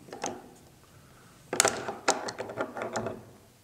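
The bolt carrier and bolt of an SVD Dragunov rifle slide out of the receiver after the rear cover comes off. The metal clicks and scrapes are quiet and close, with one faint early click followed by a cluster of ratcheting sounds.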